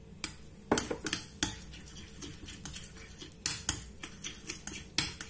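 A spoon stirs a small improvised sauce of oregano and oil in a dish, with sharp clinks of metal against the bowl in an irregular rhythm and soft wet swirling between them, close by and without talking.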